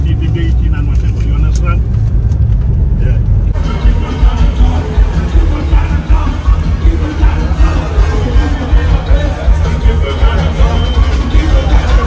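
Riding inside a car on the way to a ferry terminal, a steady low road rumble and engine hum fill the cabin while someone talks throughout.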